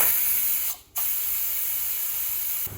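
A pressure cooker cooking village-style chicken curry hisses steam in a loud continuous spray, broken by one brief pause before the rush resumes, with no voices.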